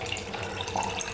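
A kitchen tap runs steadily, pouring water into a container to make lemonade, a soft continuous rushing stream, fairly faint and brief with no speech.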